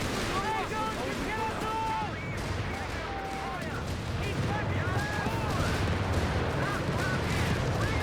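Artillery fire in a Company of Heroes 3 battle hits a Pak 40 anti-tank gun crew and Australian troops: a continuous roar of distant shelling and rumbling explosions, with whistling tones over it and a commentator talking throughout.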